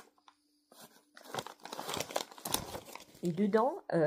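A small paper envelope being handled and opened, crinkling and tearing in short bursts close by, mixed with someone speaking French over the rustling.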